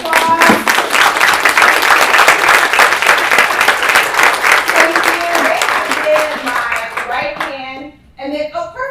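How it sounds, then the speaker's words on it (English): An audience at a chamber of commerce meeting gives a round of applause for chamber staff, with dense, loud clapping for about eight seconds that tapers off. Someone then speaks briefly. "If you can give these ladies a round of applause."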